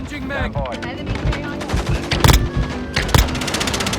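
A Lockwood 300 double-barrel shotgun fires two heavy blasts in a video game, set among dense, continuous in-game gunfire and explosions, with voices talking over the action.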